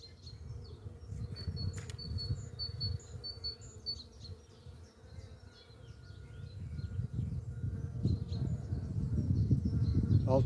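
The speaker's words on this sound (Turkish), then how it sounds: "Bakın arı seslerine bakın." Many bees buzzing outdoors in front of a house, a steady dense insect drone that holds throughout and swells louder toward the end, with faint birdsong above it.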